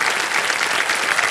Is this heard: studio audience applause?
yes